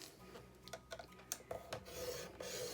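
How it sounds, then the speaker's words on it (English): A scoreboard tool scores lines into paper for a stationery folio, making soft, faint rubbing and scraping strokes with a few light taps, heard close and without any voices. "we are going to score the large piece here at 1 inch"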